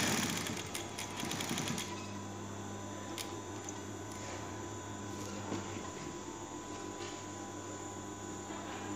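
A sewing machine stitching an auto-neat patch pocket runs as a quiet steady mechanical whir with light rhythmic clatter, faint and continuous over a low hum, with a few sharp ticks along the way.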